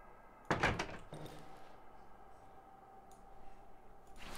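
A door being barricaded in the survival horror game Darkwood: one heavy wooden thud with a brief clatter, then low, quiet ambience.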